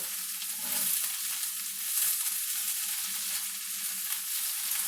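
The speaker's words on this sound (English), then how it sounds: "You just want to keep stirring them so that they don't burn." Swiss chard fries in bacon grease in a hot pan, giving a steady close sizzle with soft scraping as it is stirred continuously.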